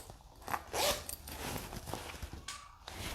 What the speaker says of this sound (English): It does have a back zipper.